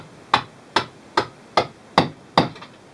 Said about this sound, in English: give it a couple of relatively gentle taps